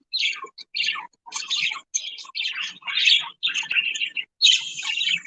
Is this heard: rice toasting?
no